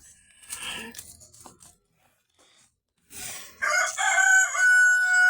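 A Rhode Island Red rooster crows loudly up close, preceded by softer clucking and rustling, with a brief quiet gap before the long, strained cock-a-doodle-doo rises and holds to the end.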